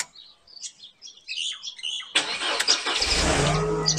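A Mercedes W203 car's engine starts after a fuel pump replacement, a sudden loud crank catching into a steady idle rumble, preceded by faint bird chirps in the quiet before.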